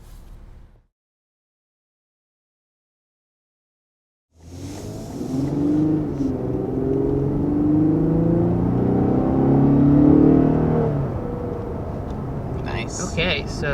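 A 2021 Lexus IS 350 F Sport pulls away after a brief silence, its engine rising into a strong, steady acceleration roar that swells and holds near the cabin, with a faint voice at the start.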